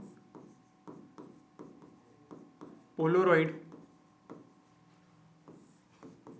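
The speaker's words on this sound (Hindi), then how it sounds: "हम यहां पे लिखेंगे" Chalk or marker writing on a board during a physics lesson: rhythmic short strokes spaced about half a second apart, broken by one longer, louder scrawl in the middle, with someone speaking throughout.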